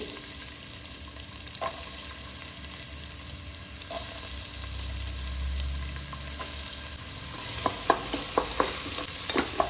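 Onions fry in oil for a mutton curry, giving a steady broadband sizzle with occasional spoon-and-pan clinks and scrapes toward the end; close and continuous, with no talking.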